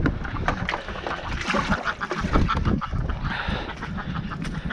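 Ducks and geese honk and quack busily at feeding time outdoors, a dense, continuous chorus of close and overlapping calls with splashing, no talk.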